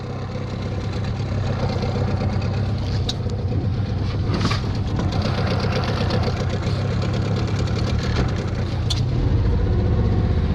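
An outboard motor on a PND (HDPE) boat runs steadily in spring, with near, continuous engine drone and a throbbing low rumble holding throughout, plus a few brief clatters.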